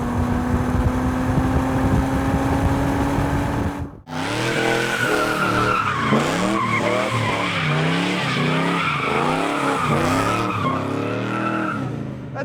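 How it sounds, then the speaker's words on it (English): A sports car at a racetrack does a long, loud burnout, its tires squealing and skidding in repeated wavering screeches over a roaring engine, close by with no talk. "Doug likes to do burnouts, just like me."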